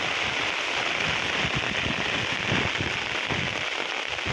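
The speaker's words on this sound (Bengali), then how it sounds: "বৃষ্টি হইতেছে, এটা ভালো লাগতেছে" Steady rain hisses and patters during a strong storm with gusting wind, a dense continuous wash with scattered crackling drops, no voices.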